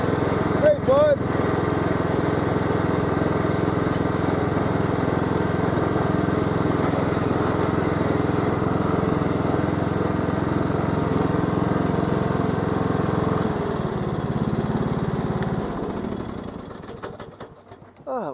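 A tractor engine drones steadily while running a backhoe, a loud, continuous mid-pitched chug with people talking over it. The engine note drops and fades near the end.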